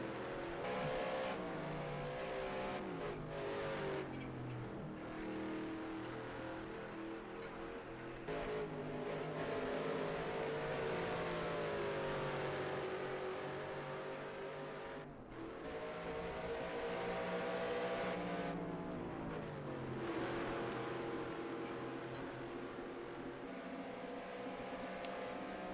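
Race cars lapping Road America in a sim racing video game, engines droning steadily and continuously. Pitch rises and falls through gear changes and acceleration, with several cars heard together at a moderate, even level.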